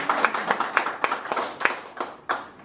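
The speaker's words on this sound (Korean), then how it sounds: "큰 박수 부탁드립니다." Audience applause at a Korean invited-guest lecture event, a run of close, sharp hand claps with an uneven rhythm, fairly loud and steady, with no talking over it.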